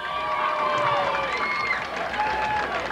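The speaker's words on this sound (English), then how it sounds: "Gets a nice round of applause from the fans there right in front of us" Fans at a 1990 Randolph versus Roxbury high school football game at Roxbury High School applaud and cheer steadily, a broad crowd wash with voices rising and falling throughout.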